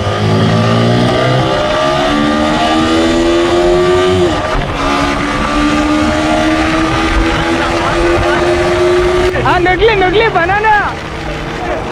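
A Yamaha R15 V4M 155cc motorcycle with a quickshifter pulls hard, its engine note climbing steadily in pitch, broken by two quick upshifts before rising again. The sound is loud and close throughout.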